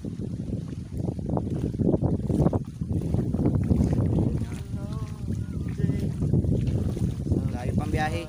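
Wind buffets steadily across open water during a small-boat paddling trip on a camping and fishing outing, a continuous loud rush with people talking intermittently over it.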